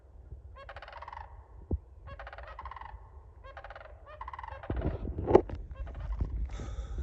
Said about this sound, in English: I'll find out the name of the crane that these are, but they're very loud.